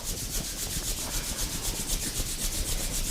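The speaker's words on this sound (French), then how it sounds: "À nouveau, on frotte." Hands rub briskly together during a self-massage, a close, steady dry swishing friction with a quick back-and-forth rhythm and no voices.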